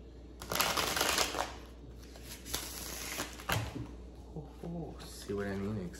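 Tarot cards from a new deck being shuffled close up in a few quick riffling bursts, with soft handling noises and a voice briefly speaking near the end.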